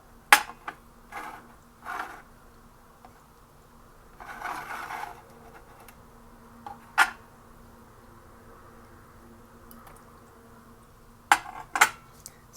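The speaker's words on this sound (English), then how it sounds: "So let's give everything a quick stir." Mac and cheese ingredients with cheese and butter stirred in one pan, heard as a few scattered clinks and scrapes of a utensil against the pan, separated by quiet pauses.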